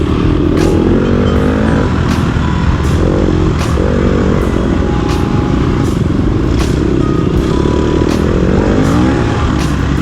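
An off-road racing motorcycle engine screams loudly and continuously through a lap, revs rising and dropping with throttle changes and gear shifts, with periodic sharp clattering knocks from the bike over rough ground.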